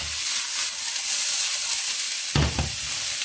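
Bean sprouts and mixed Thai-style vegetables being stirred in a hot pan, a steady close sizzle and hiss with a louder scraping stir near the end.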